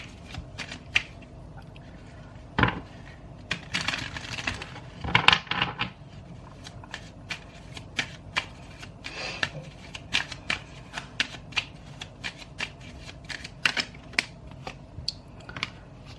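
Tarot cards being shuffled by hand, with soft riffling and flicking cards, light taps and rustles in an irregular stream, fairly quiet and close, with no talk over it.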